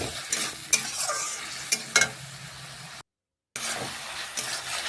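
Spice paste fries in a wok and is stirred, scraping strokes and a few sharp knocks over a low sizzle, with a brief silent gap before the stirring resumes.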